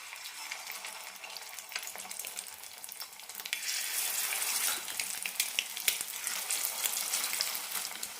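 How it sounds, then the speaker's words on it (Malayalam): Egg vada snacks sizzle and crackle in hot oil over a low flame, a steady frying hiss that grows noticeably louder partway through and stays busy with small pops. "ലോ ഫ്ലെയിമിലിട്ടിട്ട് വേണം വറുത്തെടുക്കാൻ"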